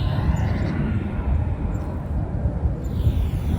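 Airplanes flying overhead during a morning yoga stretch session produce a continuous low, rumbling drone that stays steady and fairly loud throughout, with no speech.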